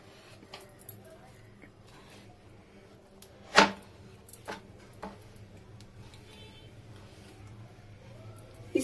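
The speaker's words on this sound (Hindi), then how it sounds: "सबसे पहले हम चिकन की पीसेस लेके इसमें हम कट लगा देंगे।" Knife scoring slits into raw chicken pieces in a home kitchen, heard as a few faint, brief cutting ticks against the board, one sharper thud standing out among quiet scattered taps.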